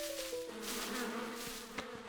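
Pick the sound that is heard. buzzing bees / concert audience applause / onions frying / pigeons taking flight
buzzing bees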